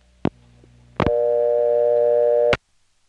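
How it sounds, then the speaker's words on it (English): A 1970s post-pay coin telephone on step-by-step switching equipment in Kenly and Clayton, North Carolina gives a short click and a brief tone, then a steady dial tone that holds for about a second and a half before cutting off with a click. "instead of getting a new dial tone, there was a coin return, and then finally a new dial tone."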